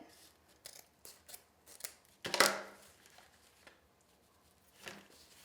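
Scissors trimming ribbon for a wreath, a series of close crisp snips followed by one louder cut and a final quieter snip.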